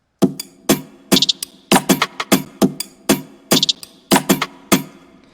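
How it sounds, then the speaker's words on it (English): Afrobeat percussion loop of dry, sharp hand-drum and shaker-like hits in a syncopated, repeating groove, with quick clusters of strikes between accented beats, close and alone. "Yeah, it's a percussion loop"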